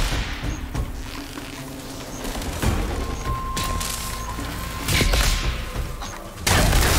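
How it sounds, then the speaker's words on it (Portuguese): In Horizon Forbidden West, a machine creature opens fire in a run of heavy bursts, thuds and booming impacts. Loud sharp hits stand out over a dense, rumbling game soundscape, with no talking. "agora o bicho tá atirando"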